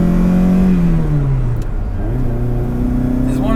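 A Ferrari Dino GT4 engine pulls hard from inside the cabin, its steady drone falling in pitch through a slow one-to-two gearshift and then climbing again, loud and close.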